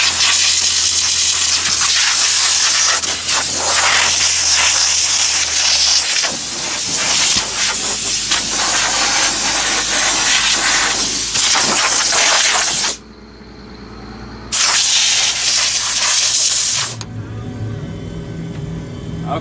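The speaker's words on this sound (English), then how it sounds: "the air filter and the cab filter are blown out" Compressed air blowing out the air and cab filters of a combine: a loud, steady, close hiss of rushing air that runs almost without pause, with a brief drop midway, over a low hum and no talk.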